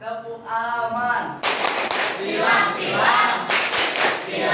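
High school students in a classroom clap together in an ice-breaking clap game, sharp bursts of hand claps following a teacher's spoken lead, with voices mixed in.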